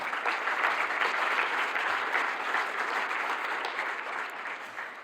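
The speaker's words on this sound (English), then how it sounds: "A big applause to them." Audience applause at the closing plenary of the EOSC Symposium 2024: sustained, full-bodied clapping from a large hall crowd, steady throughout and slightly tapering toward the end.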